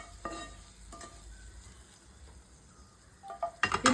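Hot garam masala tempering hits a coconut milk chicken curry with a sharp, loud sizzle near the end, after quiet clinks of a pan and utensils.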